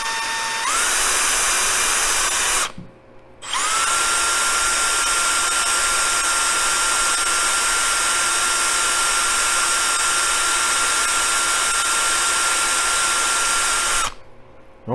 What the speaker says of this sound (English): let's go ahead and get our flits and our power drill